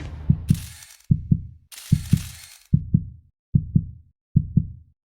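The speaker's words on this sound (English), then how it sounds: "heartbeat." Steady lub-dub heartbeat, a clear double thump repeating about six times at an even pulse, deep and close with short gaps of hiss between beats.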